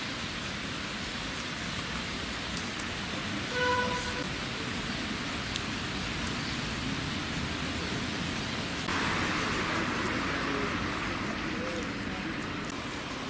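Steady rain falls on a park in Mulhouse, heard from a bench under a tree: an even, persistent hiss of drops that stays constant throughout, with a brief faint tonal sound near the middle.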